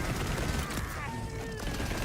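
Rapid automatic fire from a high-rate video game weapon, with dense crackling bursts running steadily through the moment beneath a busy layer of game noise and tonal effects.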